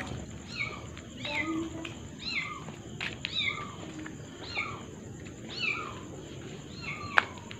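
A cat in a cemetery at night gives a series of repeated meow-like calls, about one per second and moderately close, over a steady background hiss with one sharp click near the end.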